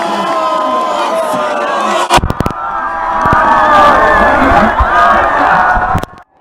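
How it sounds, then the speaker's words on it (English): A roaring soccer crowd at a World Cup match in Germany erupts in loud, sustained cheering and shouting, with a brief dip followed by a swelling, dense roar of many voices that cuts off abruptly. "the crowd went nuts"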